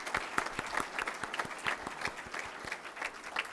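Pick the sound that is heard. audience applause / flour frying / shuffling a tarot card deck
audience applause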